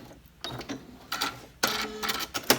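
A sewing machine back stitches a fabric mask around its curved front seam, with short close bursts of rapid mechanical clatter separated by brief pauses and small handling noises.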